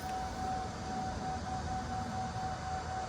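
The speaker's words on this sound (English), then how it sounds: "you can hear the humming of the battery charger in the background" A steady electrical hum holds one constant tone under broad background noise, faint and unchanging throughout.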